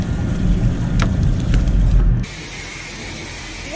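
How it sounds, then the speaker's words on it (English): A hose sprays water to rinse down a fishing boat after a day on the water, giving a steady, close, fairly loud hiss that cuts off abruptly and leaves quieter ambient noise. "we stopped to spray down the boat, flush the motor, and just get her cleaned up"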